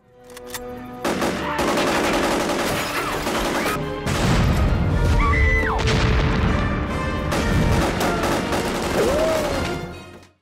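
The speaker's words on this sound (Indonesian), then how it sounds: "mulai beraksi dengan menembakkan banyak peluru mengarah ke kelompok Gypsy" Film scene of a night-time shooting attack on a group, with dense bursts of rapid gunfire and heavy crashes filling the whole stretch, loud and sustained, with faint cries breaking through.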